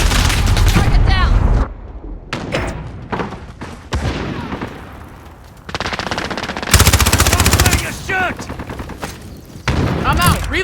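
Call of Duty multiplayer gunfire: bursts of rapid automatic fire and single shots, loud and close, broken by short pauses, with in-game voice callouts heard in between.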